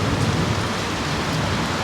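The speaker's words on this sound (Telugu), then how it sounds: "అనుకున్నట్టుగానే వర్షం కూడా పడుతుంది" Steady, dense rain pouring down in Kuala Lumpur, a continuous close hiss of drops hitting surfaces with no gaps, loud and even throughout with no voices.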